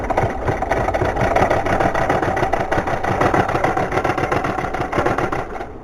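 A sewing machine stitches a fabric cover for an ironing table, running in a steady, continuous rapid whir that stays close and loud throughout before cutting off at the very end.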